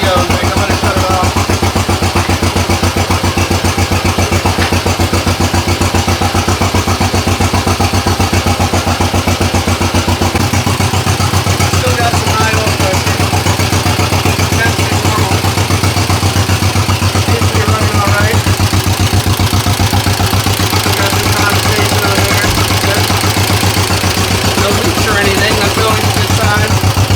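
A freshly restored engine with main clutch and PTO, running for the first time: a loud, steady, close idle with rhythmic chugging that shifts to a deeper, fuller tone partway through, with nothing else breaking through.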